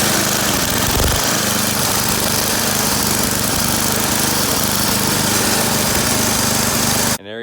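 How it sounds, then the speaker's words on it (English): A repaired snowblower engine runs steadily and loudly at close range, a continuous buzzing drone that cuts off abruptly at the end. "That's how you fix your snowblower that won't drive"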